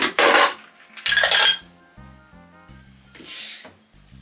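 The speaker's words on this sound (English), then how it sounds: "Now we just want a bit of ice, so we're just going to add some ice." Ice cubes dropped into a glass of canned premixed mojito, giving a few sharp clinking bursts over soft background music.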